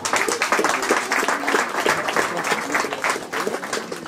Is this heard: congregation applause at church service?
yes